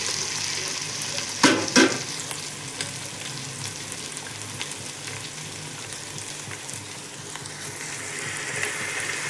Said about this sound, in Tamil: ஒரு 2 நிமிஷம் ஸ்லோவாக வச்சு நாங்கள் நல்லா குக் பண்ணிவிட்டு நல்லா ஃப்ரை பண்ணிவிட்டு